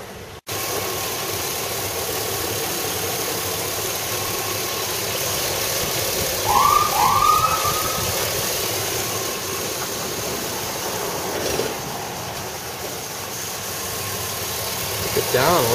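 A car engine idles in a steady, continuous drone that holds at an even level throughout. A brief higher-pitched sound and small bumps in level appear partway through.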